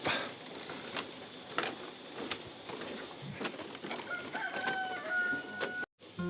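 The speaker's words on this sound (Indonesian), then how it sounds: "Disambut dengan suara kokokan ayam." A rooster crows in the distance in Kanekes village, a drawn-out call rising over a background of steady ambient noise with scattered knocks and taps.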